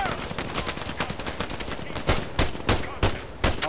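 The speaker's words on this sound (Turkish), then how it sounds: "Lan birileri sıkıyor" Rapid bursts of gunfire in the Arma 3 military shooter, with repeated loud, sharp shots that come faster and heavier toward the end over a dense battle background.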